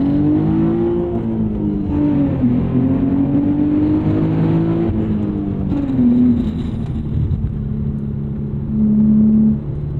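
A 2006 Infiniti G35 with a manual clutch pulls hard, its engine note rising and holding in a loud, close, continuous rumble, with a brief shift dip before climbing again.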